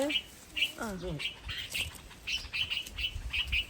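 Repeated high, thin chirps from bulbul chicks, several short calls scattered across the clip, close by, with a brief lower call and background noise.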